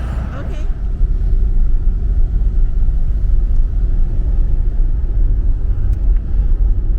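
A car driving along, heard from inside as a steady, loud low rumble of engine and road that holds evenly throughout, with voices faintly present beneath it.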